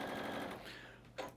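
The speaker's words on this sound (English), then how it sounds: "Now it's a long run of sewing, about 90 inches wide." A sewing machine runs a long seam on a fabric table runner, a quiet rapid buzzing stitch that slows and fades near the end, followed by a brief soft knock.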